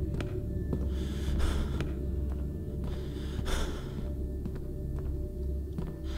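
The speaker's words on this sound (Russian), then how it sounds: "Как дышит он громко, вот мой чувак такой весь запыхался." A video game character pants loudly and repeatedly, out of breath, with heavy rhythmic gasps and sighs over a steady low hum of game background sound.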